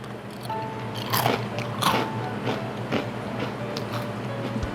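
Crunchy green-onion-flavored Chex cereal being bitten and chewed up close, a steady run of crisp crackling crunches with a few louder bites, and nobody speaking.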